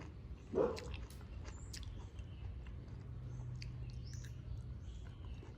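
Ripe mango is chewed close to the microphone, with a brief crunchy bite near the start followed by soft, steady wet mastication and small mouth clicks, quiet and without talking.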